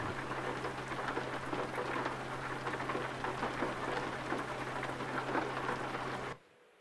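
Steady rain pours with a dense hiss and patter for several seconds, then cuts off abruptly near the end.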